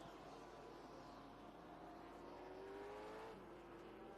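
A Chevy Corvette GT race car, number 48, at a road-course race passing by, a steady distant engine drone with a rising whine as it goes past, faint and unbroken by speech.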